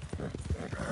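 Quick clip-clop of horse hooves trotting at an even rhythm in a video game, close and fairly loud, in a short burst.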